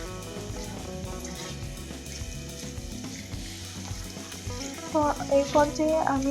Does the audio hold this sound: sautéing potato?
yes